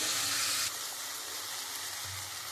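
Onion, ginger-garlic paste and spices frying in a pan, a continuous dense hiss of oil that is loudest at first then settles to a steady sizzle, close by with no talk.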